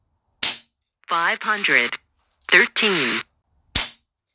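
An RTI Prophet air rifle fires two sharp, close cracks several seconds apart, with someone speaking briefly between them.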